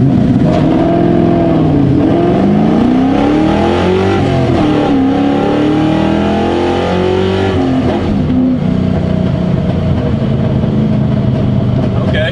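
Bolt-on New Edge Ford Mustang launching 0 to 60 with tires spinning, a loud close engine roar climbing through rising revs with gear-change dips, steady wheelspin noise underneath.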